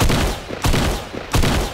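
Submachine gun fire in a multiplayer video game rattles in three loud, dense bursts separated by short breaks, close and dominant with no talking.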